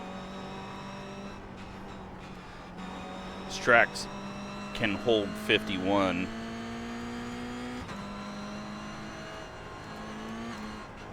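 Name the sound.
race cars on track in iRacing video game, Las Vegas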